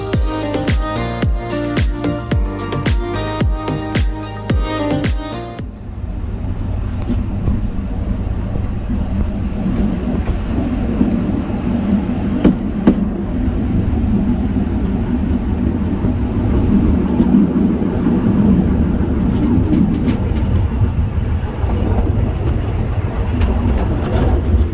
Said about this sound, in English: soon after we can listen to our train leaving the station of Altmügeln